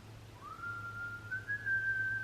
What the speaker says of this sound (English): why are so many songs these days in particular having whistling in them?